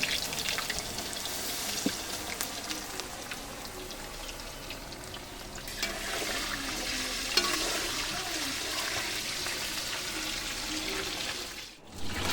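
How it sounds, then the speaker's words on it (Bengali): Potatoes fry slowly in a kadai wok for mutton kosha, a soft, steady sizzle with faint stirring scrapes, close and alone, ending in a brief thump. "তাই কড়াইতে আস্তে আস্তে আলুগুলো ভেজে নিচ্ছি।"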